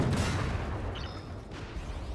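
Heavy tank cannon fire in the armored-combat video game Armored Warfare, a dense rumbling boom with a long rolling tail filling the whole stretch, loud and close with no talking.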